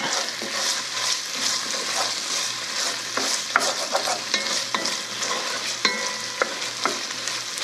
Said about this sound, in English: That oil in there bubbling away.